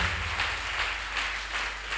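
A congregation at a church service applauds, a dense and steady wash of many hands clapping at once that carries through the whole stretch at an even, moderate level with no voices rising above it.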